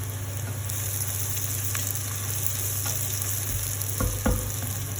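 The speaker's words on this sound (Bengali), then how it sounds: "পেঁয়াজটা ভেজে নিতে হবে যাতে কালারটা একটু গোল্ডেন ব্রাউন হয়" Onions frying in oil in a pan for egg curry, a steady close sizzle with a few soft stirring scrapes and one louder clatter near the end, no voices.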